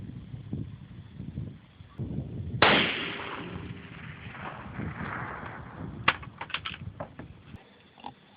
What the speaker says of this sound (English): Alright, here we go with our second shot at 400 yards.